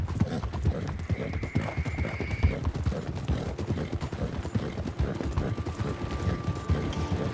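Rapid rhythmic hoofbeats of a galloping horse in the video game Red Dead Redemption 2 thud steadily throughout, with a brief whinny-like tone above them; fairly quiet overall.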